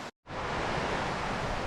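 Creek flowing through Alaskan wilderness with mountains nearby, a close, steady rushing and gurgling wash of water that fills the clip after a brief silent gap at the start.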